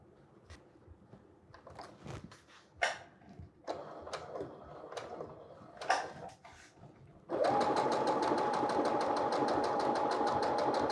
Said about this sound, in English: the only reason I'm sewing this quickly now is because it's just a straight line